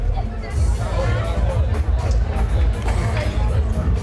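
Steady babble of a big crowd at a high school girls basketball game between Minneapolis and Sacred Heart in a gym, with many overlapping voices and chatter continuing throughout at a fairly loud level.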